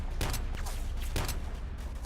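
Single-fire gunshots in a combat video game crack out as a few separate sharp reports over a dense, steady background rumble, moderately loud and with no talking.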